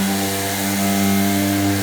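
A Milwaukee M18 cordless orbital sander whirs steadily with a droning motor hum and gritty hiss, running continuously and close by, no voices.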